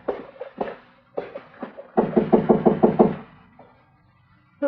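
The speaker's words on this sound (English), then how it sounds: "go ahead and knock. Let's get clear before the door opens up." Knuckles rap on a door in a Western radio drama, coming in short bursts: a few knocks, a pause, then a quick run of about six firm, close raps, followed by quiet.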